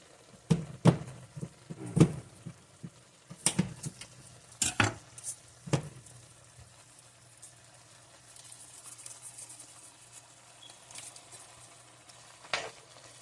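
Butter going into a pot of cheesy Philly cheese steak rigatoni as a spoon stirs, with scattered scraping and clinking strikes against the pot over a faint sizzle, quiet and close.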